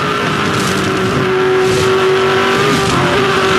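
Race cars at the finish of the 2007 Bathurst 1000, a loud sustained engine roar with a steady high whine from a passing car, dense and close, no talk heard.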